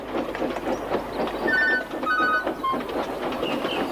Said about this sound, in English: there was the sound of another bell